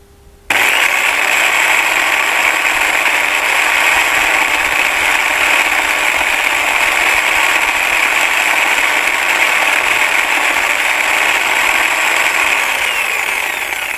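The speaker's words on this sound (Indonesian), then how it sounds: "Habis itu kalian hidupin bornya." A hand drill spins up to turn a crankshaft in a simple manual turning setup, giving a loud, steady whirring and grinding drone that starts abruptly and holds continuously for over ten seconds.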